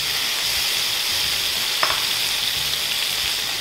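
Mixed seafood with lemongrass, tomatoes and spices crackles steadily in a pan, a dense close sizzle with one brief scrape of stirring near the middle and no voices.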